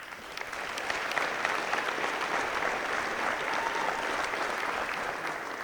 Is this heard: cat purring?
no